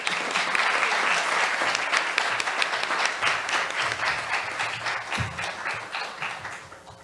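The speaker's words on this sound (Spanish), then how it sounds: "un aplauso para Mami nuevamente" A conference audience claps in a dense, sustained round that thins and fades toward the end, with no talk over it.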